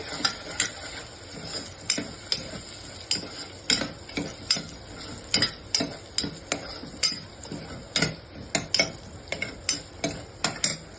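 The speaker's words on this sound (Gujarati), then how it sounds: "ડુંગળી નાખી, લીલા મરચા, એને હું બરાબર સાતળી ગઈ." Onions and green chilies sauté in a pan for dal bati, a soft sizzle beneath regular scraping strokes of a spoon stirring about once a second, close and clear with no talk.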